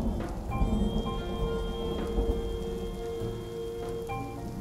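Heavy rain pouring onto city streets as an audio drama effect, a steady dense hiss with a low rumble underneath and faint tonal lines, continuous and close throughout with no talking.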